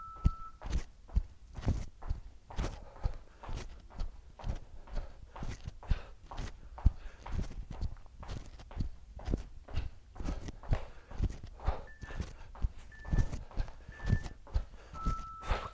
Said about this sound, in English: Okay, star jump.